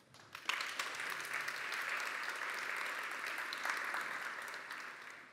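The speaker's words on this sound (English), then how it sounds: "Let's give him a warm round of applause as a welcome." A conference audience breaks into sustained applause for a speaker, a dense, even wash of clapping that holds steady for several seconds before starting to taper.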